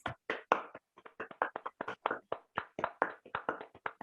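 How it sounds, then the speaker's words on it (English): Scattered handclaps from a small audience at a literature festival panel, loud and close, coming in quick irregular bursts and separate claps without a steady rhythm, with no voices over them. "Let's give them all a big round of applause."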